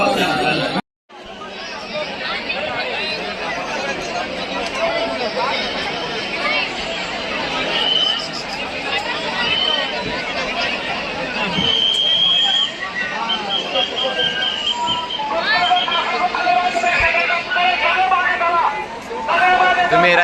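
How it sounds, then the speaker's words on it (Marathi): A packed Ganpati festival crowd at two in the morning keeps up a loud, steady chatter of many nearby voices, with occasional louder calls over the constant babble. "रात्री दोन वाजताची गर्दी बघू शकताय काहीच फुल हाऊसफुल पूर्ण हाऊसफुल"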